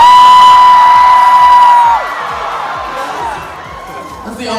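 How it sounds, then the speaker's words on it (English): A large outdoor crowd at Pride Toronto 2018 screams together in one sustained, loud roar that fades slightly after the first couple of seconds, with a steady electronic tone sounding at the start. "I just really want to join in a little scream together"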